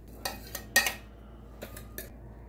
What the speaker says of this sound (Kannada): ಇದನ್ನ ನಾವು ಒಂದು ಬೌಲಿಗೆ ಹಾಕೊಳ್ಳೋಣ.